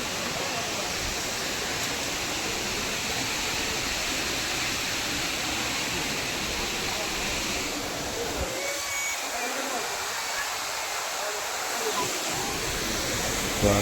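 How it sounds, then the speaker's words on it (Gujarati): Water let into a pond at a Khodiyar temple rushes in a steady, loud broadband roar like a small waterfall, continuous throughout with a brief dip partway, and a voice speaks faintly over it. "અંદર પાણી છોડ્યું છે, જોઈ શકો છો."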